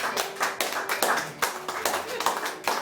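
A church congregation claps together in a fast, rhythmic burst of applause, many hands striking in loose unison with voices mixed in among the claps.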